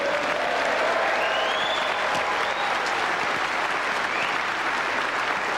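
An audience applauds steadily after a billiards trick shot, a dense, sustained wash of clapping from a crowd that holds for several seconds, with a faint voice briefly audible beneath it.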